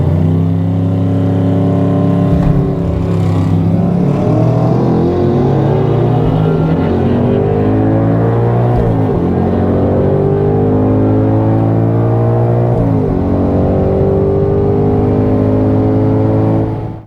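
A car at a drag strip launches and accelerates hard, its engine roaring loudly and climbing through rising revs with a few brief dips at gear changes, sustained and close throughout.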